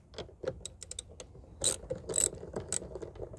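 A socket ratchet clicks in short, close bursts while loosening a battery terminal on a 2016–2019 Honda Pilot, with rapid pawl ticks and a few brief pauses between turns.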